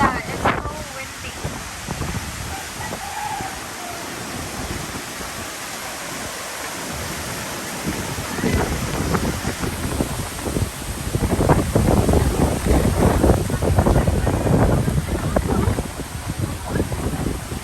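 Strong typhoon winds from Typhoon Jolina tear across a property in Masbate, Philippines, roaring in long gusts that swell louder toward the end, with a voice speaking briefly over the storm.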